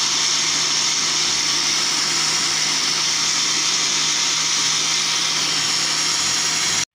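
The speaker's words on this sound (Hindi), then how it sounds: "अभी हम इसे ग्राइंड करेंगे" An electric blender grinds tomatoes and green chillies in a jug, a loud, constant whirring roar running without a break until it cuts off abruptly at the end.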